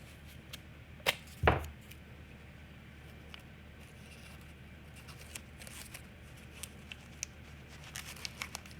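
Tape torn from a roll and pressed over mixed media artwork, with a sharp ripping burst early on and then faint crinkles and light taps as it is smoothed down, close and quiet.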